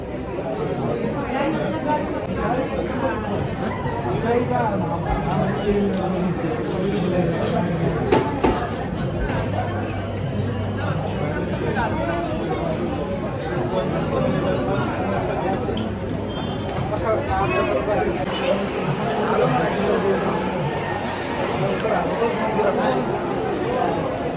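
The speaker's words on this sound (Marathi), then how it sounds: "तर गाईज खूप गर्दी झालेली आहे, खूप म्हणजे खूपच गर्दी आहे." Large crowd at night at the Dagdusheth Ganpati temple, a dense steady hubbub of many voices chattering close and all around, with no break throughout.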